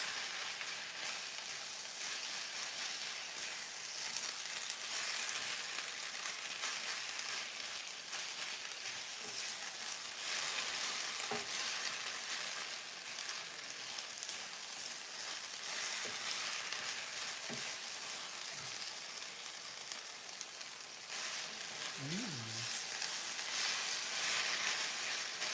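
Noodles and vegetables sizzle in a hot pan as sauce is stirred through them, a steady, close frying hiss with occasional soft scrapes and clinks from the utensil, no voices.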